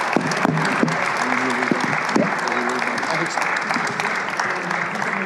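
Sustained audience applause at a policy conversation with Senator Joe Manchin in Boston, dense steady clapping from a crowd with some voices mixed in throughout.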